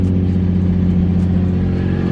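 A stock-engined Nissan 350Z with a misfire runs steadily up close, its low, uneven engine drone continuous and loud for the whole stretch, with no voices.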